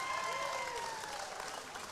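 A football crowd applauds and cheers a goal in a Victorian women's league match between Hawthorn and Essendon, a dense, steady roar of clapping and voices filling the whole stretch with a faint whistle-like tone early on.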